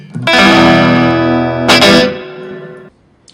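A distorted electric guitar chord rings out through a practice amp's reverb effect, a second strum added partway, then the lush wash decays into a fading tail.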